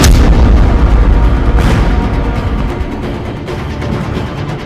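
Heavy naval gunfire striking the warship RI Macan Tutul amidships, a loud, close, deep booming blast that rolls into a long fading rumble, with a second muffled thump partway through.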